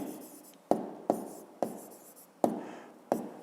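Pen strokes on paper come as a faint, close series of about six scratchy bursts at an uneven pace, each starting sharply and trailing off, with no voices.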